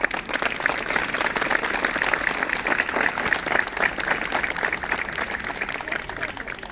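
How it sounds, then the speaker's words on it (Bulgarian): Audience applause at a public speech in Momchilgrad, a dense, continuous burst of clapping from a crowd that stays loud and even throughout, with voices mixed in. "специална аплодисмент"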